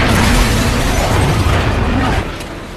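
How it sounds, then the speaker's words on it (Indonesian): A loud, close gas station explosion roars and rumbles for about two seconds, then fades into a lingering, quieter crackle. "menembak pom bensin yang menyebabkan ledakan besar terjadi"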